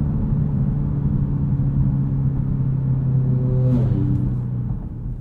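A 2022 Genesis G70 3.3T AWD accelerating hard from a launch-control start toward 60 mph: a steady, loud engine rumble with a rising tone, then a brief shift in pitch near the end, heard from inside the car.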